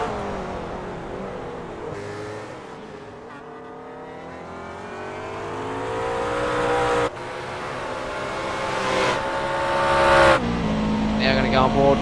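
Race cars in an Aus/NZ Grand Am sim race, a Red Bull McLaren passing a Red Bull Riley, engines droning and rising in pitch with revving and shifting, under continuous commentary.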